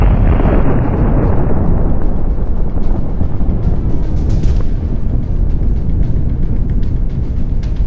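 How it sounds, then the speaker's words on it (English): A heavy, booming explosion followed by a long rumbling roar with scattered crackles and pops, loud and without speech. "Let's check out that explosion again."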